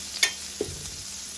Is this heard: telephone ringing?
no